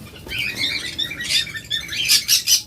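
Caged pet birds, such as cockatiels, budgerigars or doves, chirp in quick, bright bursts close by, the calls coming in several clusters toward the end.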